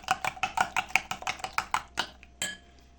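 A utensil knocks rhythmically against a bowl while pizza batter of yogurt, salt, flour and baking powder is mixed, about a dozen quick clinking strokes that slow and end in a final scrape, close and clear with no talk.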